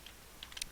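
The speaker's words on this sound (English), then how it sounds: "So the first thing I'm going to do is type pizza." Several quick taps on a computer keyboard as the word pizza is typed, a short close burst of clicks clustering toward the end over a quiet background.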